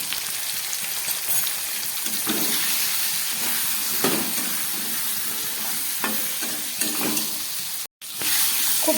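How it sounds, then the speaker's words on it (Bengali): Cauliflower and potato pieces fry in oil with salt and turmeric, giving a loud, continuous hissing sizzle nearby with faint stirring scrapes and one brief cutout near the end. "ভালো করে নুন হলুদ দিয়ে আমি ফুলকপি আলুটাকে ভেজে নিলাম"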